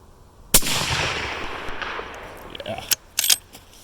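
A 7mm PRC rifle fires at reactive steel targets outdoors: one loud sharp report rolls away into a fading echo, followed by a few quicker, quieter cracks near the end.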